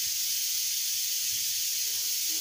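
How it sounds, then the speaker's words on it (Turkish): A stovetop pressure cooker with red meat inside hisses steadily, a constant bright, airy steam jet running alone at moderate volume. "Onu düdüklüye aldım, pişiyor."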